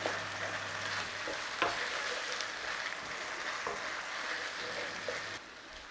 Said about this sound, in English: We are going in there with our gravy. Give it a mix in.